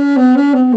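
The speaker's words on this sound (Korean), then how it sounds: "그리고 여기 이 압력에서 내가 호흡을 너무 약하게 주면" Saxophone played with too weak breath pressure, producing a short, sustained note of under a second that wobbles slightly in pitch.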